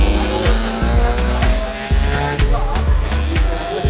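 Honda cars roll out onto a wet drag racing strip, engines revving in repeated pulses with tire noise, loud and close throughout.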